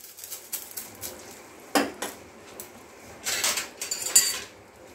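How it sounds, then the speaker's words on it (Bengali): Hot tempering is poured into cooked red lentil dal and stirred in, with metal spoon and pot clinks and scrapes in short bursts over a faint background, no talking. "এই ফোড়নটা সরাসরি দিয়ে দিচ্ছি ডালের মধ্যে"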